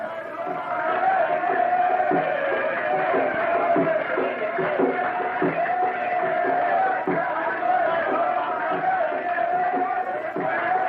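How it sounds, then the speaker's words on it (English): Women and children in an Egyptian village cheer a young bridegroom as he passes, a dense, steady crowd roar of shouts and whoops with a sustained high tone running through it, loud and unbroken throughout. "The windows lining the route are filled with women and children cheering the young bridegroom"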